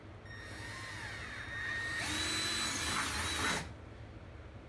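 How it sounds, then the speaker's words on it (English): A power drill with a sharp bit whines as it bores holes while installing fender flares on a 2019 Polaris General, rising in pitch and intensity for a couple of seconds before stopping. "I wish my other drill bit was this sharp."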